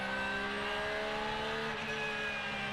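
GT World Challenge America race cars at Sonoma Raceway, one a BMW, roar past close by with a loud, continuous high-revving engine whine and shifting tonal harmonics, with no voices over it.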